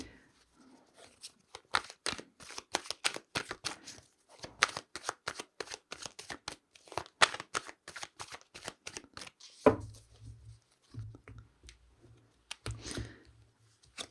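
Tarot cards are shuffled in quick, crisp riffling bursts, close and fairly loud, with brief pauses between passes and soft clicks and taps toward the end.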